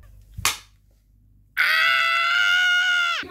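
A sudden loud, sustained scream rings out alone for nearly two seconds, following a brief sharp smack-like burst shortly before.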